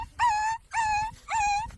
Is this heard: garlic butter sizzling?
no